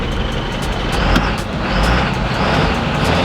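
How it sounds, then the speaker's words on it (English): Truck engine idling steadily, a continuous low rumble with a faint rhythmic ticking layered above, heard close and alone. "is the sound of a running truck."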